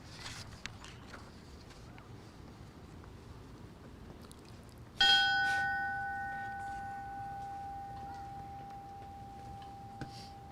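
A memorial bell at a fallen firefighter ceremony in Edmonton, Alberta, struck once loudly and left to ring out in a long, slowly fading hum against a quiet outdoor background.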